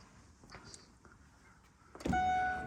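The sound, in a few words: Mercedes-Benz GLA 200 power boot closing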